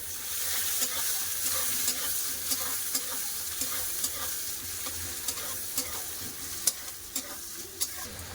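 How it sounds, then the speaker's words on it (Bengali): Chopped onion sizzles in a pan while a utensil stirs it, its regular scraping knocks landing about every half second over a steady frying hiss. "পেঁয়াজটা ভেজে নিয়েছি"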